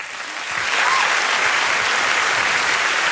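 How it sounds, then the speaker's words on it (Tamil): A large audience breaks into loud, steady applause for singing contestants at a talent competition, building quickly after a brief quiet start and continuing as a dense wash of clapping. "அவங்க எல்லாருக்கும் நம்ம பெருசா ஒரு கைத்தட்டை கொடுக்கலாம்"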